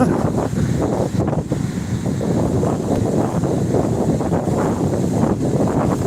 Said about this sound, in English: It's getting very windy down here now.